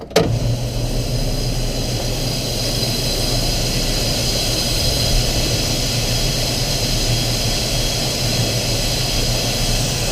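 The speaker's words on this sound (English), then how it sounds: "First, you need to turn on the up unloader, which is that auger, because you don't want to plug it" Unloader auger running on a John Deere 7600 combine while unloading corn, a steady loud mechanical roar and whine with constant machinery hum, unchanging throughout, no voices.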